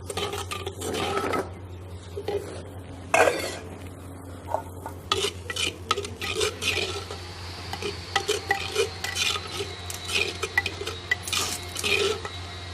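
Spice paste of onion, garlic and green chillies roasting in oil in a pot, with steady scraping and stirring of a metal spoon against the pan and faint sizzling throughout, close and continuous.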